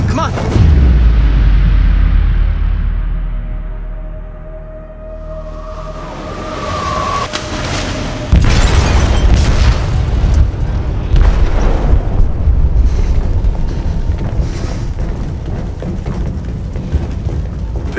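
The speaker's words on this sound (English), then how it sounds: "They detonated an explosive in the hold." A large explosion rips through a ship's hold in Detroit: Become Human, a heavy booming rumble that fades before a second loud blast hits, followed by sustained crashing, rumbling debris and chaotic noise.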